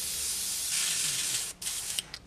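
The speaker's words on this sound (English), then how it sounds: "quick spray of the foaming cleaner" Foaming cleaner sprayed through an airbrush gives a steady loud hiss for about a second and a half, then it breaks off and comes back as a few short spurts.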